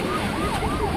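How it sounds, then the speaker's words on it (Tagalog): A China Coast Guard vessel's siren wails loud and close at sea, its pitch swooping steadily up and down, with a dense rumble of engine and wind underneath. "Oh, wangwang na naman. Nagwangwang na."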